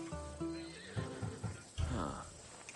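A horse in Assassin's Creed Odyssey whinnies with a rising, wavering call, preceded by shorter snorting sounds and a few hoof-like thumps, fairly close and clear with no voices.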